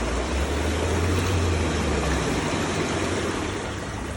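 Bubble jets of a Lay-Z-Spa Paris inflatable hot tub churn with a loud, steady frothing rumble and air-pump drone, then ease off and quieten toward the end as the jets are switched off.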